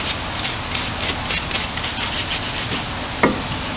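Scrubbing a car brake caliper clean before brushing on Duplicolor paint, a steady rapid back-and-forth brushing rasp with rhythmic strokes, close and fairly loud, with a small knock near the end.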